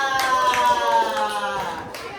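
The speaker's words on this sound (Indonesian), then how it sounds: "Tepuk tangan untuk kelompok Safia." A class of fifth-grade pupils claps for a group of classmates, a short burst of many hands close by with a sustained voice tone running under it before the clapping fades.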